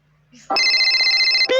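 A telephone rings loudly with a bright, sustained electronic trill close by, preceded by a faint low hum and a brief voice-like sound.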